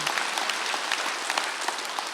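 A church congregation at a Sunday worship service applauds, with dense, steady clapping at moderate distance throughout.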